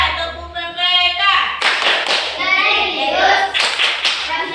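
Students in a classroom clap a rhythmic pattern in unison, with sharp, close bursts of hand claps interleaved with children's chanting voices.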